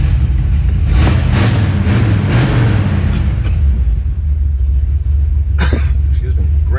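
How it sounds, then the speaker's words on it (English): Engine of a 1957 Chevrolet Bel Air giving low rumbling revs with a couple of throttle blips, loud and close throughout, with someone talking over it. "Let me give it a little tap on the gas."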